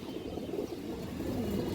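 Indian high flyer Kaldom pigeons cooing softly and continuously at close range over a low background murmur.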